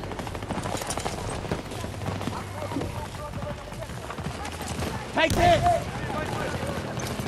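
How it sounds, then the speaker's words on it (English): Dense bursts of rapid gunfire from a Battlefield 2042 match on the Orbital map, rattling steadily through a busy game mix with a louder, sharper flurry near the end. "a lot of people shooting me"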